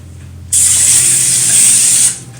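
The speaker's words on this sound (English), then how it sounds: "we need to spray it a little extra because the sugar and cinnamon like to stick to it anyways" Cooking spray hisses onto a silicone baking mat while cinnamon rolls are being prepared: one loud, close, steady burst of about a second and a half, with no talking.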